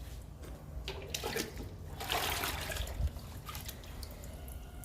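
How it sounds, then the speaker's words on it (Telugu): Homemade liquid fertilizer is poured from above onto bushy indoor plants, with quiet splashing and trickling in soft bursts and a louder gush near the middle. "బుషీగా ఉన్న మొక్కలన్నిటికీ పైనుంచే ఇస్తున్నానండి లిక్విడ్"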